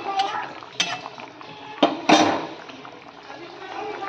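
A pot of Bengali fish curry is lifted off the stove, with a few sharp metallic clanks and scrapes of cookware, close by, amid light kitchen noise and some talk.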